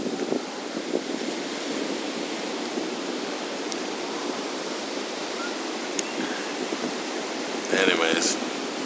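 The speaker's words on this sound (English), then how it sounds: "I love the sound of the ocean." Steady broadband wash of surf rolling in, with wind rumbling across the microphone and a brief louder burst near the end.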